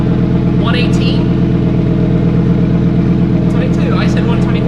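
A Lamborghini Huracan STO engine holds a loud, steady droning note at high revs, close to the microphone, while brief voices speak over it.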